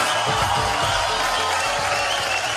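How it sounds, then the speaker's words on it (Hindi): Dense, steady applause from an awards-show audience at a film awards ceremony fills the entire short stretch, with a faint crowd murmur mixed in and no clear speech over it. "आप सबके लिए जोरदार तालियां पहले तो होनी चाहिए।"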